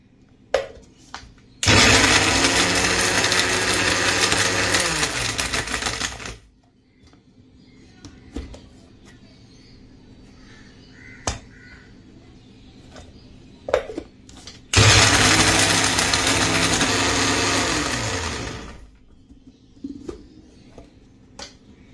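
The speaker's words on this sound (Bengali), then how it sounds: "পাউরুটিগুলোকে প্রথমে গুঁড়ো করে নিতে হবে, তার জন্য লাগবে একটা মিক্সি।" A kitchen mixer grinder whirs loudly, pulverising leftover bread slices into crumbs, in two long bursts of several seconds each with quiet pauses and small clicks and handling sounds between them.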